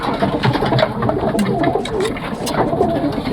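A male pigeon coos repeatedly in a loft, soft rolling calls close by, with faint background noise and other birds around.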